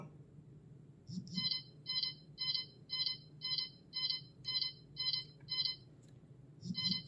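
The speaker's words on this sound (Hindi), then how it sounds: "आपकी वॉच करेगी वाइब्रेट और आपकी वॉच में बजेगा टोन" A NoiseFit Halo smartwatch sounds its find-my-device alert, a quiet repeating electronic beep pattern of about a dozen evenly spaced tones over faint background hum.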